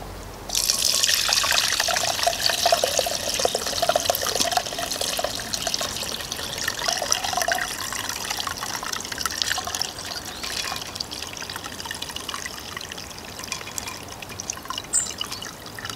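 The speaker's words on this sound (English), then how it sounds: "So I'm just going to filter it into this jug." Homemade tanning liquid for a squirrel skin is poured through a filter into a jug, making a steady, close splashing trickle that starts abruptly and slowly eases over about sixteen seconds.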